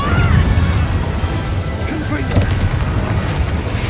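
An Incendio fire spell goes off in a Harry Potter video game as a loud, rumbling roar of flames and blast noise. It is sustained and dense across the whole stretch, with a slight swell near the start.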